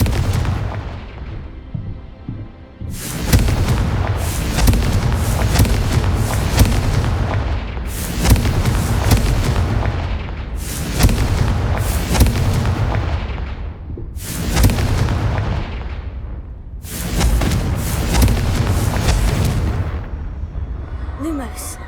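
Repeated Confringo explosion spells in Hogwarts Legacy, each a loud blast with a sharp onset and a decaying rumbling tail, about five or six in a row, separated by brief gaps amid continuous game sound.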